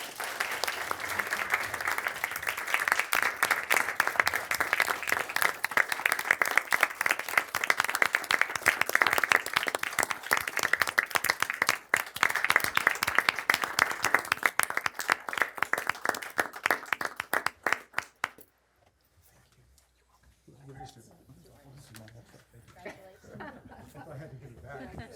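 Sustained applause from an awards ceremony audience fills the room for about eighteen seconds, then cuts off to near silence before faint murmuring and talk resume.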